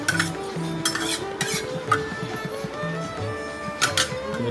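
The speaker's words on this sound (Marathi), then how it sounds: "आता मोहरी टाकलेली आहे, त्यावर आपण लसूण, हिरवी मिरची टाकलेली आहे." Garlic and green chillies go into hot oil with mustard seeds for tempering, with faint sizzling under sharp metallic clinks of a spoon against the pan, repeated irregularly at close range.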